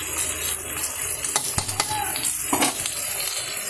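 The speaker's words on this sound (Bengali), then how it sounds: "এই দেখো পেঁয়াজটা দিয়ে দিলাম আমি কড়াইতে" Onions frying in a kadai, a steady sizzle with a few sharp scrapes and clinks of a spatula against the pan, close and continuous.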